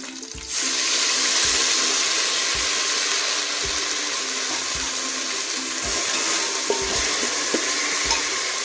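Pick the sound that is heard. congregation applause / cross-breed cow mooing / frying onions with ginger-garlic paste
frying onions with ginger-garlic paste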